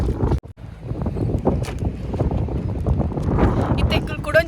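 Wind buffets the microphone in gusty rumbles while people talk, steady throughout with a sharp break near the start.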